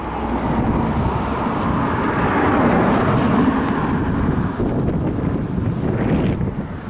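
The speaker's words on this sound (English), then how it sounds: "Really windy today, but nothing that I can't handle." On a windy day at a Miami bus stop, strong wind buffets the microphone with a loud, constant roar that stays steady throughout the clip.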